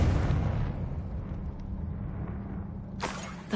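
A Confringo fire spell from the video game Hogwarts Legacy bursts with a loud, broad blast that settles into a low rumble, then a second sharp burst flares up near the end.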